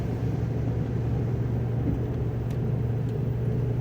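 A 2004 Dodge Ram 1500 truck with a V8 and cold air intake climbing a long hill, heard from the cab as a steady, loud low engine drone and road rumble, constant throughout with no talking.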